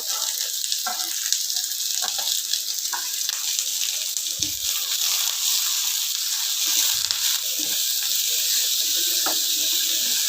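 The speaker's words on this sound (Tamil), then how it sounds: "அடுப்பு சிம்மில் வச்சு வதக்குங்க" Ridge gourd peel sautéing with tamarind, garlic and curry leaves in a pan on low heat, giving a steady, loud sizzle with occasional stirring scrapes and no talk.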